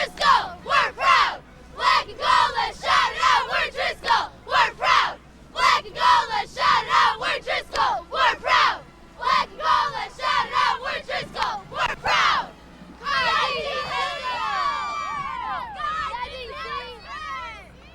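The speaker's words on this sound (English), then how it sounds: "let's have the Highlander cheerleaders do a cheer for us" Highlander cheerleaders from Driscoll chant a rhythmic cheer in loud, punchy shouted phrases, echoed with a crowd at a high school state football championship, ending in a burst of cheering and yelling.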